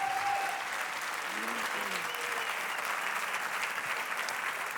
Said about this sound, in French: Merci Jack Lang, que l'on applaudit bien fort.